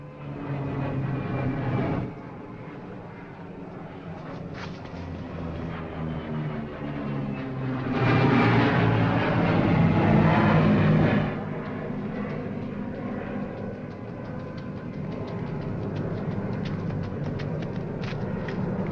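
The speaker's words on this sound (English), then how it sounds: "Holmes, he's coming in for a landing." A propeller airplane flies overhead during a wartime air raid. A loud, droning engine rumble grows, peaks as it passes, and fades into a steady roar, with no voices.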